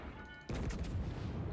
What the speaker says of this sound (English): I'm hoping I can get one more salvo out on this guy before I get taken out